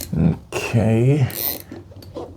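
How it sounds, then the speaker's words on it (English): Screw being driven in while installing a smoke detector, a loud close whirring drill or driver that rises and ratchets in short bursts with brief pauses between. "That last screw is giving us some resistance."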